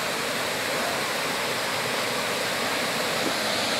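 The Antônio Monteiro waterfall near Pocinhos do Rio Verde roars in a steady, dense wash of falling water, loud and unbroken with no voices over it.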